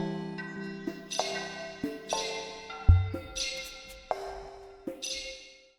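Designed video game spirit ability effects heard alone: breathy split whooshes, gentle vibraphone dings and bright metallic shings, several separate hits in a sequence, with one low thump partway through.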